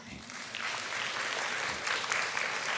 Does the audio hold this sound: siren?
no